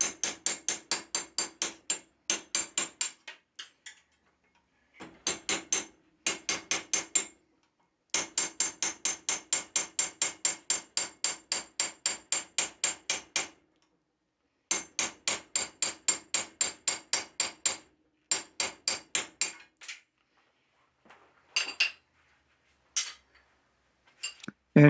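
A hand hammer strikes a cold chisel to shear a metal tenon, sounding as loud, sharp metallic ringing blows in fast, steady bursts broken by short pauses, with no voices.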